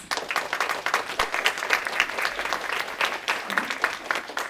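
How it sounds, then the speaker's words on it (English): An audience at a talk on the criminalization of youth gives sustained applause, dense steady clapping from many hands filling the room throughout, loud and continuous with no speech. "if we could give them a round of applause"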